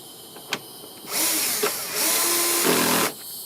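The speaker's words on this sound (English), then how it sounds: "If you're using a driver, I like to set it to about 7, so that I won't strip the screws." A power driver removes a taillight screw on a 2009-2015 Honda Pilot in one close, steady whir of about two seconds with a brief dip partway through, set against faint background handling noise.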